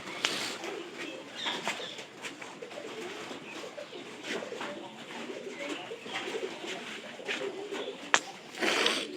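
Bought pigeons kept alongside chickens, cooing softly and steadily with scattered faint calls and a few wing flutters, fairly quiet and close, with a brief sharp knock near the end.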